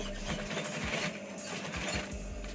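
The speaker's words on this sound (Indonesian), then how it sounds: "Kita matikan jahitannya" A sewing machine runs steadily, backstitching to lock the seam on a collar, its motor humming with a fast rhythmic mechanical chatter throughout, close and moderately quiet.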